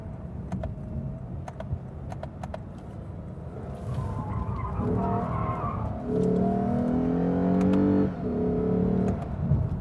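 A 2015 Lexus RC350 F Sport with a 3.5-liter, 306-horsepower engine driving, its engine note building to a louder, steady drone with some tire noise toward the end, heard alone without talk.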